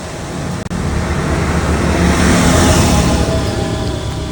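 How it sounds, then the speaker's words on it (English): Steady rain falls outdoors in a broad, loud, continuous hiss that swells slightly midway, with a brief dip near the start and no voices. "Here comes the rain."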